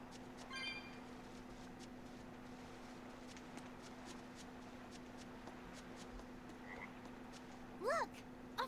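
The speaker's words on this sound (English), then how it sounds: "Look! A frog!" A frog croaks in the Tales of Berseria video game, on a seaside path. One short, rattling croak comes early over a steady ambient hum, and a brief chirping call follows near the end.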